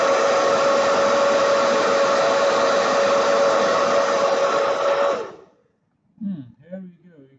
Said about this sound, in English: let's say we use the hairdryer, we expose the sensor into